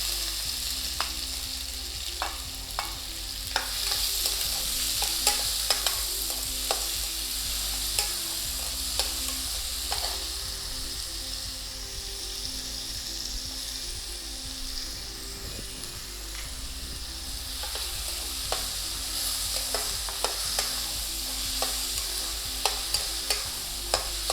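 Steady sizzling of food frying in hot oil for vegetable kurma, with repeated scraping and stirring strokes from a utensil in the pan throughout.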